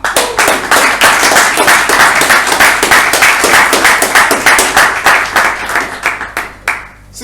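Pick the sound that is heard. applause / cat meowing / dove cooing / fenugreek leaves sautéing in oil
applause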